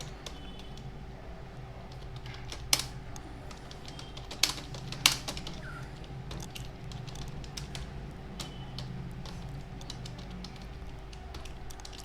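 Steady clatter of typing on a computer keyboard while writing Java code, with rapid soft key taps running throughout and a few sharper, louder strikes standing out, no voices.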